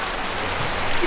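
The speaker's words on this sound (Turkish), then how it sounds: "yağmur yağdı şimdi artık" Rain falls steadily on a two-storey caravan, a brief even hiss of drops with no other sound standing out.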